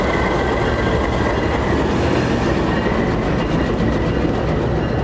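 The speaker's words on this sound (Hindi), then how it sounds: "तो ये लोकोमोटिव जा रहा है जी हमें छोड़कर" A locomotive and train pull away from Attock Khurd railway station in a loud, continuous rumble of rolling wagons, with rhythmic wheel clatter building toward the end and no talking.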